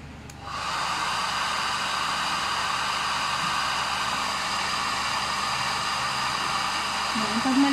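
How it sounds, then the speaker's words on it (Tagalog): Handheld hair blower switched on and running in a steady, loud whoosh of air from close by, continuing without a break. "Pero, gagamit tayo ng blower."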